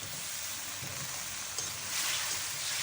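Spice paste and potatoes sauté in hot oil with a loud, continuous close-up sizzle and faint stirring underneath, steady throughout and swelling slightly toward the end.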